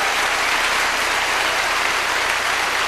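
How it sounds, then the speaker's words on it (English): Church congregation clapping together in a steady, dense wash of applause that fills the room continuously, with no voices above it. "Let's give the Lord a clap offering."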